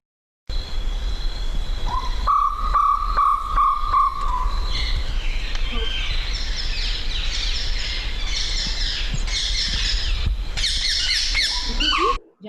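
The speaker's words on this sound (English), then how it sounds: "This is the jungle owl." A jungle owl call recording plays loud and close: a run of rapid, evenly spaced hoots, followed by a burst of harsh, chattering squawks, with no talking.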